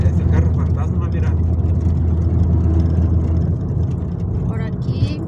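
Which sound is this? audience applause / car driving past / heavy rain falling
car driving past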